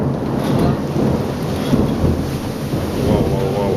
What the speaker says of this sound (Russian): Ну дождь, конечно, вау.